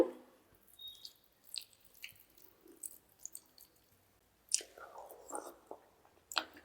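Close, wet chewing and soft mouth sounds from someone tasting a spicy gongura (sorrel leaf) curry with meal maker soy chunks, coming in irregular bursts with quiet pauses between.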